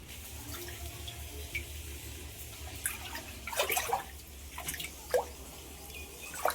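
Water drips and trickles from a fish pond being drained, a low steady murmur of flow under faint splashes and scattered sharper drips.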